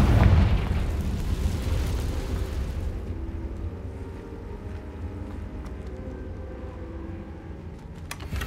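A Confringo fire spell in Hogwarts Legacy bursts with a loud, deep explosive boom, then rumbles and crackles away over several seconds, a sharp pop near the end.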